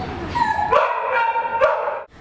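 A pet dog gives a few close, high-pitched yips and whimpering barks with tonal whining between them, and the sound cuts off near the end.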